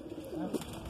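Pigeons coo softly in a Jodhpur, Rajasthan loft, a low murmuring call rising briefly near the middle under steady ambient noise.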